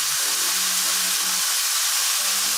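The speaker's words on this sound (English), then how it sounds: "We'll let the peach halves cook away together with the onions" Peach halves and onions with pepper and garlic sizzle steadily in a pan over a very hot flame, a loud continuous hiss with a faint low hum beneath it.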